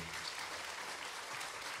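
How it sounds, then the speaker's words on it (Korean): Audience at a morning chamber concert in a hall applauding to welcome the performers, a dense, steady wash of clapping throughout the short clip. "우리 연주자들 네, 예, 박수로 맞이하겠습니다"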